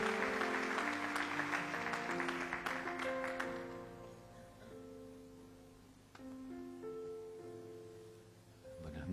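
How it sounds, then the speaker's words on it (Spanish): An audience applauds to welcome a speaker at an evening gathering: steady clapping for about four seconds that fades into sustained keyboard-like music. "Lo recibimos con un aplauso."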